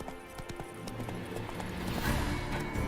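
The horse Roach gallops in The Witcher 3 with quick, rhythmic hoofbeats that stay close and steady and grow slightly louder toward the end, with no talking.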